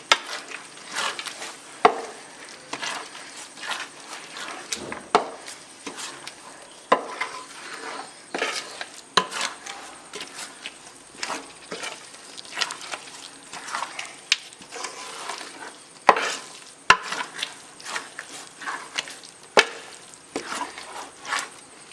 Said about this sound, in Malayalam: ഇനി ഇത് വീണ്ടും നന്നായിട്ട് ഇളക്കി കൊടുക്കണം